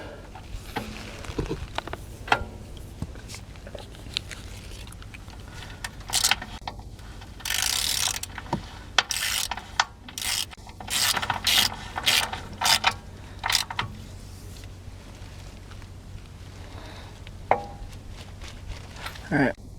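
A ratchet tightens a drain or fill plug on a ZF5 five-speed manual transmission from a 1992-1997 vehicle, giving clusters of rapid close clicking between pauses, with a voice speaking faintly in places.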